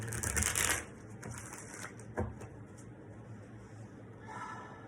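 A quick riffle of tarot cards at the start, followed by soft scattered taps and rustles of handled cards in a quiet room.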